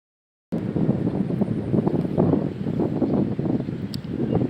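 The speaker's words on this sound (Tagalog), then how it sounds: "Lakas ng hangin yung sobrang." Strong wind blows steadily across an open rural field with bamboo and grass where cattle are tethered, buffeting the microphone in loud, continuous gusts with no voices.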